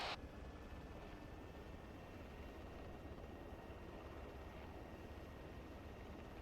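A military aircraft in ArmA 3 taking off from runway 33, heard as a steady, loud, broadband engine and propeller roar that holds constant the whole time with no talk.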